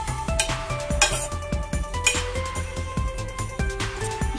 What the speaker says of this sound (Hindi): नारियल को भी थोड़ा हल्का 1-2 मिनट फ्राई करेंगे खुशबू आने तक।